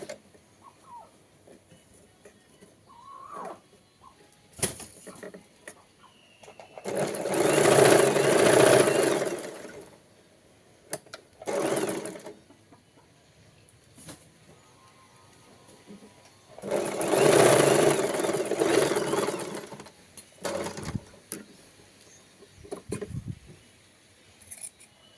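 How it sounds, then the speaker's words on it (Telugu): A sewing machine double-stitches the shoulders of a girl's cotton frock in two long steady whirring runs, close and clear, separated by short bursts, clicks and quiet handling sounds. "ఇలానే షోల్డర్స్ డబల్ స్టిచ్ చేసేసుకుంటున్నాను"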